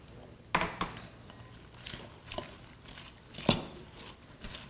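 Salad with red onion being tossed in a bowl, giving a run of soft, irregular clinks and rustling knocks of utensils against the dish, fairly quiet and close, with no speech.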